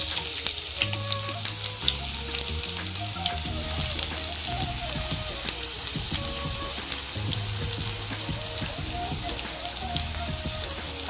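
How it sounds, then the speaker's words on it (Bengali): Chopped onion frying in hot oil in a kadai, a dense crackling sizzle like rain that holds steady for several seconds, close and continuous, with faint stirring underneath. "তেল গরম হয়ে গেছে, কেটে রাখা পেঁয়াজ দিয়ে দেবো।"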